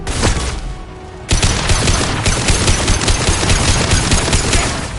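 Rapid gunfire in the Mass Effect 2 shooter: loud, dense automatic bursts that begin after a brief quieter moment, then keep rattling steadily, close up, with no talking.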